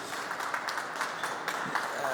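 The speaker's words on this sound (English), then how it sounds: "Round of applause, please." Applause from an expo audience after a talk on connecting the public and private sectors, a steady patter of clapping from a moderate crowd for about two seconds, fairly soft and even.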